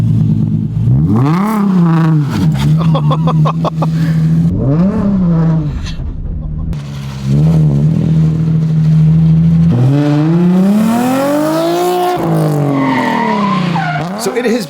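A manual transmission car driving and accelerating, its engine note rising and falling through several revs and gear changes with occasional tire noise, loud and continuous, with speech mixed in.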